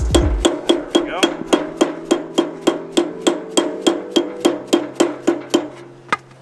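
A hammer taps on a wheel bearing cap during wheel bearing repacking, striking about seventeen evenly spaced sharp blows over several seconds, close and clear with no talk.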